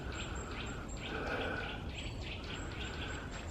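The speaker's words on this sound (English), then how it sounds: "Quiet, isn't it? Apart from the birds make all that racket." Birds chirping and calling outdoors on a quiet, muddy walk, a steady mix of distant tweets and trills over soft ambient background noise.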